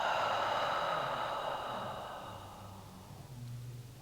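Slow yoga breathing during a backbend flow: one long, airy exhale that gradually fades over a few seconds, close and soft, with faint room noise underneath.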